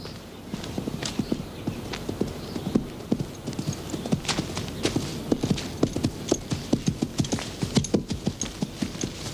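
A ridden horse clip-clopping in a steady walking rhythm of hoof strikes, moderately close, continuous throughout.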